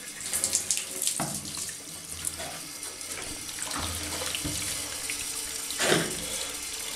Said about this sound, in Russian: Наливаем воду.